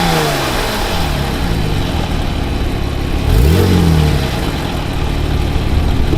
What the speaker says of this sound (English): That's my Porsche revving up in the background.